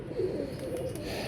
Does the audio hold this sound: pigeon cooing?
yes